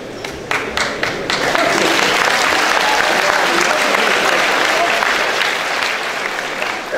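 An audience in a hall bursts into sustained applause, a dense steady wash of clapping with a few sharp early claps, loud and close for several seconds with no talk.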